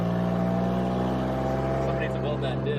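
Steady drone of a Ford Mustang engine cruising on a test drive with its newly installed transmission, dense and continuous road and drivetrain noise from inside the car, with a voice talking over it.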